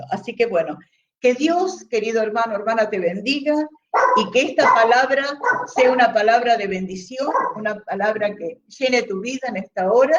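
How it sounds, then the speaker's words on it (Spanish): A dog barks intermittently in the background while a man preaches in Spanish over it, the barks partly masked by his steady speech. "lo deben oír, que está ladrando."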